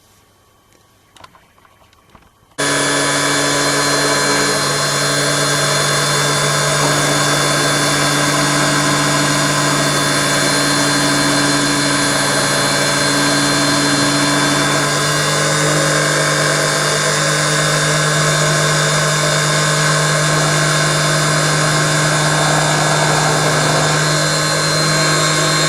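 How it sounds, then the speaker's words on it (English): Power drill boring into a model wheel, tyre and hub clamped in a vise, starting after a short quiet stretch and then running as a loud, steady, high whine without pause. "That's the drilling operation complete for one wheel."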